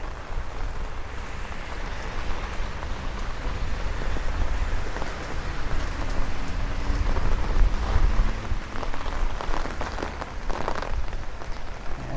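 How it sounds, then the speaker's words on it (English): Strong gusting wind during a nighttime thunderstorm on a Brooklyn street, rushing past a tall hospital building as a steady broad roar with swelling gusts, close and loud, no voices. "the wind is just bouncing off of this hospital right here"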